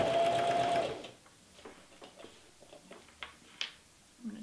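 A home sewing machine stitches a cloth face mask in one short fast whirring burst, then stops and leaves quiet fabric handling and small clicks.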